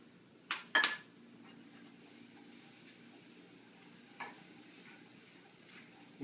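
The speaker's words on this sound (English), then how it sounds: "once those have sauteed a little bit in there, it starts to bubble and just starts to turn brown" Garlic and salt sautéing in a pan: a faint, steady sizzle with a couple of sharp utensil clinks near the start and a softer clink later.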